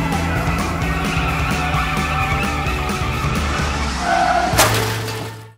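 A vehicle pulls away with tires skidding and squealing, a continuous loud rumble that swells, ends in a sharp crack, and then cuts off abruptly.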